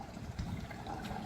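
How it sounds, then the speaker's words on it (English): Water from a backyard pool waterfall spilling and splashing into the pool, a steady soft rushing and trickling wash at moderate distance with no speech. "So you get to see that waterfall in action."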